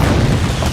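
Gunfire from a film battle scene: a dense, loud burst of booming, continuous blasts filling the whole moment with heavy low rumble and no pauses.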